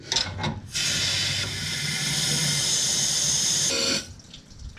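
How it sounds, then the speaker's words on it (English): Liquid coolant pours steadily into the engine bay of a Ford Ranger, a bright continuous splashing hiss for about three seconds between short handling noises, close by with no talk. "Just gotta add coolant"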